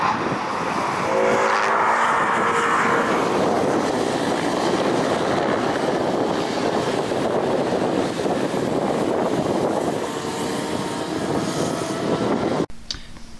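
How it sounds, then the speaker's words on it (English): Cars and motorbikes lapping Brands Hatch on a track day produce a continuous loud engine roar throughout, with rising and falling passes and a sharp bang near the end. "got a track day going on, so motorbikes and also cars"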